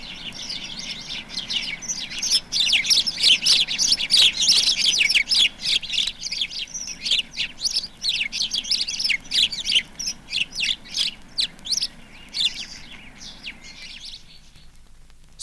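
Several male sparrows call loudly and rapidly in a chasing display flight around a female, a dense, continuous chorus of shrill chirps close by, thinning out toward the end.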